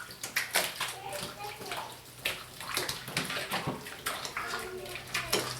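Rabbit hides from pasture-raised rabbits being washed and worked into a soapy lather in water, with steady sloshing and splashing throughout and brief faint voices.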